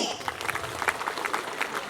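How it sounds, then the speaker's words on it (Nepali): An audience at a national church fellowship gathering in Nepal breaks into a burst of clapping, with a voice talking over the applause. "जोरदार ताली"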